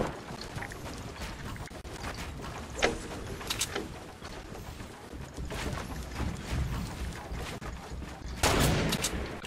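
Sniper rifle shots in a first-person shooter game ring out as several sharp cracks, one around three seconds and a louder burst near the end, over a constant busy game soundscape.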